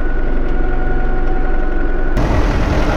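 Tractor engine running at low rpm with the power take-off engaged at 540, a loud, steady low droning hum that shifts to a rougher, heavier rumble near the end.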